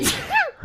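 A single sneeze bursts out once, close and fairly loud, in a quiet indoor setting with no talk over it.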